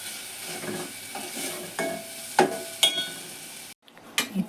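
Spices such as chilli powder are stirred into a dal and tomato sambar in a pan, with a run of close scraping spoon strokes and soft sizzling, one brief pause, then a few more clinks.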